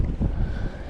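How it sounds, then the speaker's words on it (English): Wind rushing across a lake buffets the microphone, a dull low rumble that stays steady and fairly loud through the moment. "hopefully you guys can hear me over the wind"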